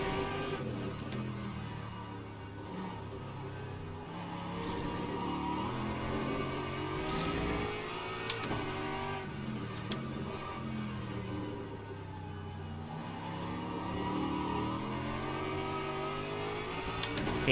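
A BMW GT3 race car engine drones and revs through gear changes at Fuji in Le Mans Ultimate, a steady mid-pitched whir rising and falling, close and continuous.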